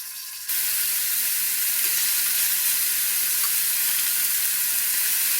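Korean mini meat patties frying in olive oil in a pan, a loud, steady sizzle that starts abruptly and continues without a break, with no talking.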